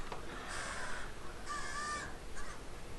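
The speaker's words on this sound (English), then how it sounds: "Do ignore the crows cawing outside." Crows cawing outside, giving three harsh caws in quick succession, moderately close, over a quiet room background.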